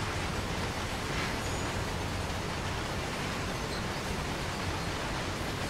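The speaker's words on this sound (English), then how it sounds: "all you can hear is carriages being dragged along." Freight train carriages on a CSX heavy-haul train in Train Sim World roll along with a steady, even, broadband rumble and hiss, heard from the rear at moderate-low level with no distinct clanks or voices.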